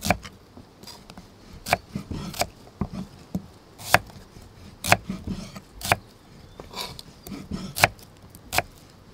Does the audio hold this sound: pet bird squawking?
no